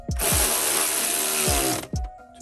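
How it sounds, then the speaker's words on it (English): A power tool whirs in one sustained, close, loud burst as it drives bolts on a Can-Am Renegade taillight, with short clicks and knocks before and after. "Highly recommend power tools if you want to make it quick and simple."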